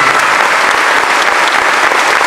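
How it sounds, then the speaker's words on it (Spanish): Thunderous audience applause in a Broadway theatre, a dense, steady wall of clapping that stays loud and unbroken for the whole stretch. "Fuerte los aplausos."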